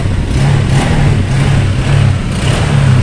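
A Honda Click scooter that had trouble starting now runs, its engine idling steadily and close, with a slightly pulsing mid-pitched hum and light revving.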